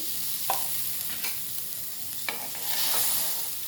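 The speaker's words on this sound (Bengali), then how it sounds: "আমি ঝোল দিয়ে দিচ্ছি ডাঁটাটাতে" Broth poured into a pan of frying drumstick stems and potatoes, with a few soft stirring scrapes and a steady low sizzle that swells slightly toward the end.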